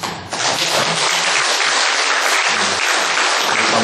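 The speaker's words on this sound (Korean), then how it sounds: "격려하면서 박수 좀 해주시죠" A church congregation applauds the choir during a Sunday worship service, dense, loud and sustained clapping that fills the room evenly from start to finish.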